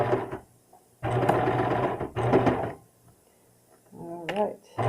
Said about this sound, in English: I'm going to go ahead and start serging.